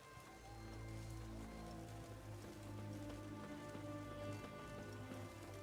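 Steady in-game rainfall in The Witcher 3: Wild Hunt, a dense continuous patter on surfaces lasting throughout, with sustained tonal music or ambience layered underneath and no one talking.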